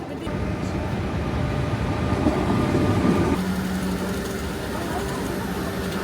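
Low, steady rumble of a train from Copenhagen to Malmö in motion with a shifting mechanical drone, continuous and fairly close, no voices standing out.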